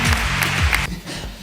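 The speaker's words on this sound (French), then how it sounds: "Je vous demande d'applaudir Antoine Frémanteau" An event audience breaks into a short burst of applause after a speaker introduces a guest, with clapping that is dense and near and then fades, and voices mixed in.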